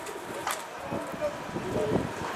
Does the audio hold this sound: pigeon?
yes